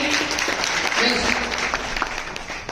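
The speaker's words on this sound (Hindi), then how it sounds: "बहुत शानदार, जोरदार तालियां हमारे मैम के लिए" Audience at a Happy Health India recognition ceremony in Indore claps in a moderate burst, with a voice talking over the applause throughout.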